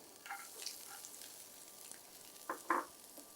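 Garlic frying in a pan for chicken drumstick soup, heard as a quiet, steady sizzle. A few brighter crackles and pops rise near the end.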